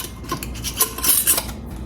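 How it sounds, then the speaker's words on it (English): A lid screwed onto a glass jar of homemade dark brown sugar in a kitchen, giving a few light metallic clinks and scraping twists, close and brief with no talking. "I'm going to put the lid on it."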